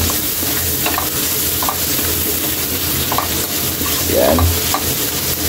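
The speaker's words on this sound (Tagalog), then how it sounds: "Gigisahin lang natin yan." Onions and carrots sauté in a hot pan with a steady loud sizzle, broken by occasional scraping stirs and one brief louder burst near the end; a voice speaks a single word.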